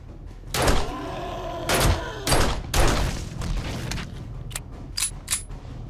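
Gunfire in 7 Days to Die: several loud, sharp broadband shots spaced irregularly, a few close together near the end, with no talking over them.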